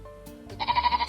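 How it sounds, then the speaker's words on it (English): A sheep gives a single wavering bleat up close. The call is loud and pulses rhythmically, and it comes after a brief quiet lead-in. "Say hello to the sheep."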